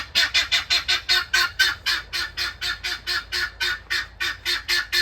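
Guinea fowl give a loud, rapid run of harsh repeated squawking cries, about four per second, close by and steady while a dog chases them outdoors.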